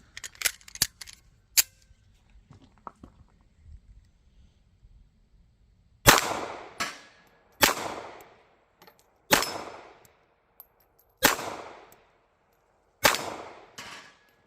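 Pistol shots ring out at steel targets: some quick faint clicks and handling noise, then six loud, sharp reports spaced about a second or two apart, each with a short metallic ring and decay, close to the microphone.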